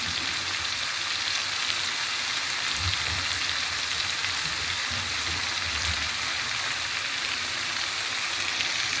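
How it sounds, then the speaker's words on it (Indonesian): Bean sprouts and spring onions frying in a pan while being stirred, a steady hiss and crackle of sizzling oil running throughout with faint scraping underneath, close and continuous. "Ini udah bisa kita masukkan togenya, daun bawang dan sayur lain ya. Diaduk sekalian."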